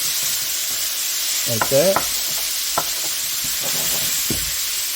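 Ground beef frying in a pan while being broken into chunks, a steady loud sizzle with scraping spatula strokes and scattered knocks, plus a short stretch of speech partway through.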